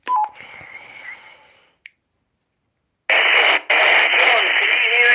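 A CB radio gives short bursts of static and squelch, with a brief tone and some faint noise at first, then silence, then loud hissing static that breaks once and resumes.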